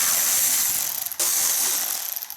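A hand ratchet clicks rapidly and continuously while loosening 10mm headlight bolts on a 2018-2020 Ford F150, with a brief pause midway before the close, dense ratcheting resumes.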